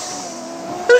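A 2JZ-swapped Volkswagen Beetle in GTA 5 roaring loudly, its engine note droning steadily before a sharp burst near the end, with a voice talking over it.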